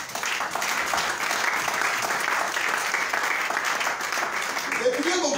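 A church congregation applauds steadily throughout, a dense sustained wash of clapping at moderate distance with no clear breaks.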